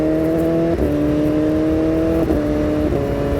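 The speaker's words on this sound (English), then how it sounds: "So with this exhaust, the bike got a lot cooler sound." BMW S1000RR motorcycle fitted with an SC Project exhaust, heard while riding as a loud, steady engine drone with strong harmonic tones that shift briefly at a few gear changes or throttle blips.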